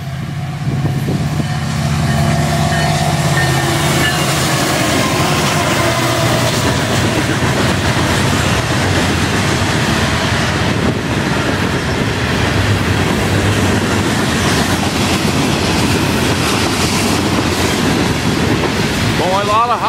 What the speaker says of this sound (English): Going a lot of hopper cars in this train.